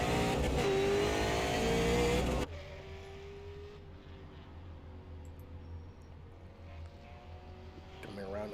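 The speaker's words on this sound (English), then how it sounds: "there goes the 64 Rice. You see how he's hugging that inside line there." A race car at the Lucas Oil Super 50 screams past on track, its loud, high engine whine dropping in pitch as it goes, then a fainter engine drone lingers behind a commentator's voice.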